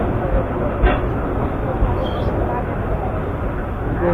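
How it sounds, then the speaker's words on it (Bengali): A passenger train rolls into Manikkhali railway station on the Narsingdi to Kishoregonj line, a loud low rumble of wheels and carriages heard from inside, with a voice speaking over it. "এই মুহূর্তে আমাদের ট্রেনটি ঢুকে পড়লো মানিকখালী রেল স্টেশনের ভিতরে।"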